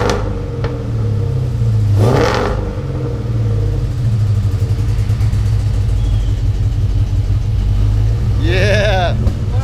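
A swapped-in Ford Coyote V8 engine idles on its first start with a deep, lumpy rumble and revs up briefly a couple of times, loud and close.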